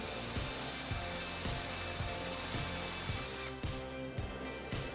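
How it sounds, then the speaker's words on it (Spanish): A drill press bores holes through supports for a homemade aluminium CNC machine, a steady loud whirring drone with a rhythmic rubbing pulse roughly every half second, briefly easing near the end. "voy al taladro de mesa y hago los agujeros hasta el final"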